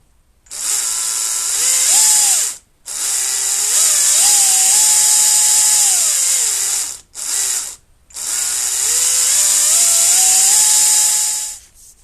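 A Stihl HTA 85 cordless telescopic pole pruner with variable speed runs in three loud bursts of high-pitched motor whine, the pitch climbing and falling as the trigger is eased, with short silent gaps between them and no talking.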